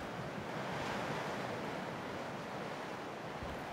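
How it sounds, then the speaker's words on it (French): Heavy southwest winter wind on Islay roars steadily at about 100 km/h alongside crashing surf, a dense, unbroken wall of noise with gusts buffeting the microphone. "Les vents de sud-ouest soufflent à 100 km/h."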